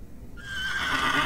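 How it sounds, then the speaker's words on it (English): A horse whinnies loudly and close in The Excavation of Hob's Barrow video game, one long rising neigh that swells over a low rumble. "Oh, a horse."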